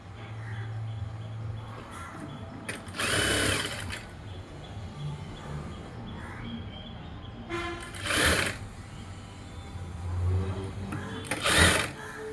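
A sewing machine stitches a girl's princess-cut dress in short bursts of rapid whirring, separated by quieter pauses with a low background hum.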